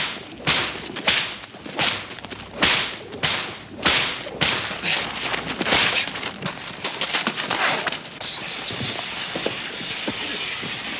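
A whip cracks repeatedly in a rapid, uneven series of sharp, loud snaps over about eight seconds, followed by calmer rustling and background noise.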